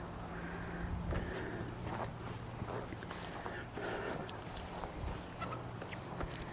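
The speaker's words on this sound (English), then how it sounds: "These are our meat birds that we moved" Meat birds (poultry) come running on a small homestead, their scuffling steps and soft clucks heard near and moderately loud in a busy outdoor scene, with a low steady hum underneath.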